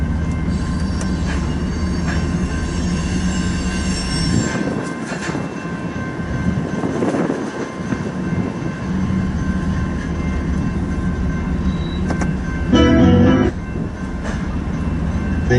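A freight train grinds through a sharp curve as it turns from westbound to southbound under a speed restriction. Its wheels squeal in high, thin tones over a steady rolling rumble, with a harsher burst of screeching near the end.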